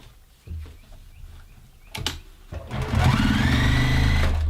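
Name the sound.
JUKI TL-2010Q sewing machine stitching six layers of denim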